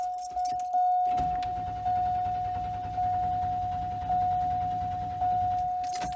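An Oldsmobile Cutlass Ciera wagon's engine cranks without starting, with a steady starter whir and rhythmic chugging for several seconds, while a constant warning chime beeps over it in regular pulses.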